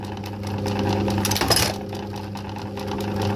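Sewing machine worth about 15,000 rupees in a tailoring workspace, running with a continuous mechanical hum and rapid rhythmic rattle, fairly close, with a brief louder burst midway.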